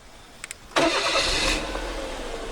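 A couple of soft clicks, then a car engine cranks and catches, settling into a steady close idle.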